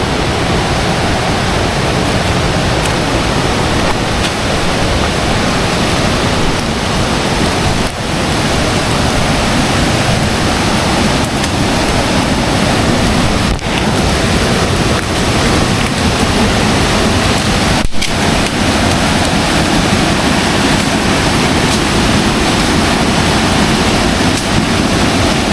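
A fast, rough river rushes past in a continuous loud roar of churning water that fills the whole stretch close by, steady throughout with no voices.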